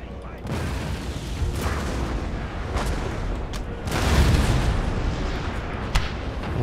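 Artillery fire in Napoleon: Total War, heard as repeated deep booms and cracking volleys in a loud battlefield din, with a few sharper blasts standing out.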